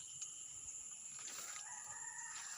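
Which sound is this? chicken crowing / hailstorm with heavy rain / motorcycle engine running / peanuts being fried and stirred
chicken crowing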